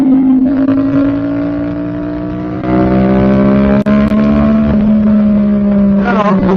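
A Suzuki SR-S450 motorcycle with a dual-pipe exhaust revs loudly and steadily with a deep, throaty exhaust note, rising slightly in pitch, then dips and climbs again near the end.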